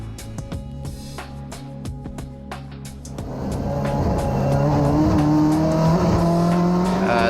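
A BMW M8 GTE race car driven with hand controls accelerates hard, its engine rising in pitch through the gears with a sharp surge from idle to a loud, sustained roar.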